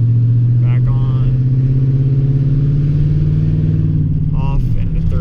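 A car engine with an automatic transmission drones loud and close, holding a steady pitch and then dropping briefly near the end as the gear changes, while a voice speaks at moments.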